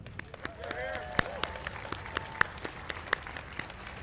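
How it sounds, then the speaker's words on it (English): A crowd at a Memorial Day parade claps in a light scatter of distinct hand claps, with a voice speaking over the applause. "A round of applause for the people that put this parade together."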